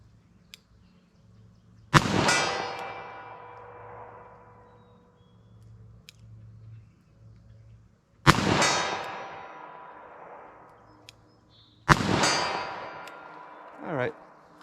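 .38 Special revolver shots fired slowly at a 50-yard outdoor range: three loud, sharp reports spaced several seconds apart, each ringing out in a long decaying echo, with a fainter metallic ping near the end.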